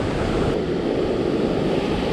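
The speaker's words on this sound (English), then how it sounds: "So now that wave is passing over my bait." Surf breaking along a sandy beach where barred surf perch are being fished, a steady broadband wash that rolls on throughout, loud and close, with wind buffeting the microphone.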